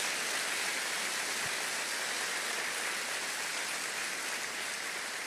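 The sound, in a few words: church congregation applauding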